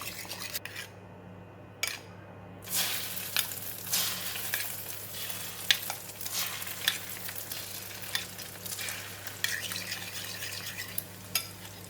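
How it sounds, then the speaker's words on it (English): An egg frying in onion-flavoured oil in a pan, a faint steady sizzle with intermittent spatula scrapes and light utensil taps, heard close and alone after a brief quiet start. "And now we have nice onion oil left in the pan, and put in the egg."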